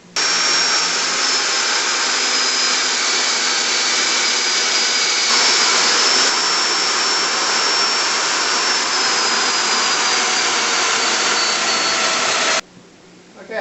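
A domino joiner cuts mortises for 8mm by 50mm dominoes in headboard wood, a loud sustained high whine that holds steady for several seconds before cutting off near the end.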